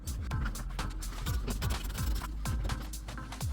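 Rapid, repeated clicking of a ratchet working 10mm screws loose on a Toyota C-HR during an oil and filter change, close and steady, with no talk.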